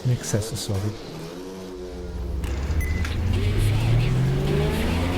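A pack of race cars launching at the start of a race at the Nürburgring in the racing game GTR2, engines rising together in a loud building roar with rising pitch sweeps, and a voice talking over the opening seconds.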